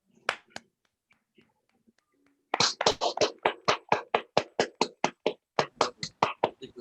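Scattered claps at a Zoom panel event welcoming a guest speaker, sparse and close at first, then after a pause a steady run of about twenty sharp, evenly spaced hand claps, fairly loud and alone with no talk.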